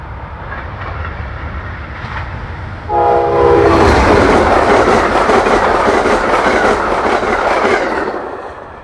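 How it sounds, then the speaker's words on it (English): Amtrak Keystone Service train passing close by on the Keystone Corridor: the horn sounds, followed by a loud, steady roar and rumble of wheels on rails that fades slightly at the end. "The first train we'll see is 670, which departed Harrisburg a few minutes ago."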